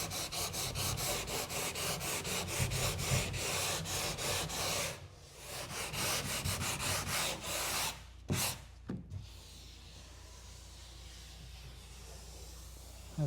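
Steady rasping rub of sanding on a wooden Wood Duck 12 kayak, taking stray brush hairs off the surface, close and continuous for several seconds before it stops and quiet room tone remains.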